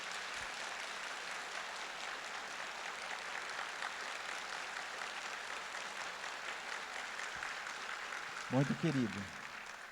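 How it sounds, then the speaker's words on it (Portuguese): Church congregation applauding during a bishop's homily at a patron saint week Mass, a steady wash of clapping that fills the clip before someone briefly speaks near the end. "Para ele eu peço uma salva de palmas"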